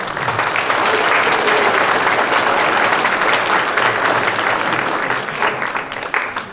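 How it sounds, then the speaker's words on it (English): Sustained, dense applause from the audience at a middle school spring concert, a thick wash of clapping that stays steady and loud throughout. "So please a round of applause for them."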